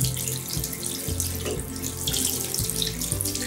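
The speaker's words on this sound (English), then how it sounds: "And now we are washing the Nokia X inside a tap of water." Water pours steadily from a tap over a Nokia X phone, splashing and gurgling over a hard surface with a continuous, close rushing sound.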